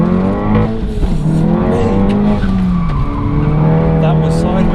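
A 358 bhp Audi S1 sliding sideways, its tyres squealing in long wavering tones over the engine's drone, loud and close, with a voice talking over it.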